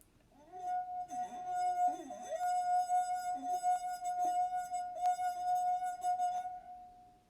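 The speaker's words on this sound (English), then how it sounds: "that will show us that the glass is vibrating" A glass rings with a sustained, steady tone for several seconds, with faint rubbing and light clinks at the start, close and clear.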